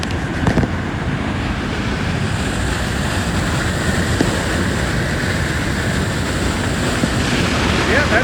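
Water pouring steadily over a man-made waterfall spillway at Rugg Pond in Kalkaska, Michigan, a loud continuous roar filling the whole clip with no break.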